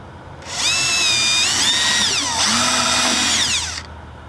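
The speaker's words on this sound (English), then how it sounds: "So firstly, I'm going to drill a small hole to make sure I'm in the right place on the other side." A power drill bores a small hole through the wall of a Winnebago Voyage 2831RB RV, whining loud and close for about three seconds with its pitch dipping midway under load, then stopping.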